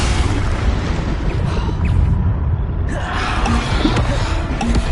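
A Bombarda explosion spell from Hogwarts Legacy sets off a loud, dense roar of blast and rumble that fills the whole stretch with no pause.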